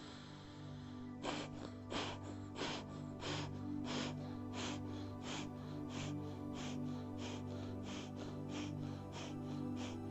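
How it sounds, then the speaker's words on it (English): Alternate nostril breathing for pelvic floor exercise, with a quick run of sharp, evenly spaced nasal sniffs and exhales, close and soft over a steady low hum. "Breathing in through the right and out through the left"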